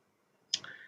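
A single computer mouse click while placing a node on a construction grid in structural modelling software, one short crisp tick in a quiet room with no talking.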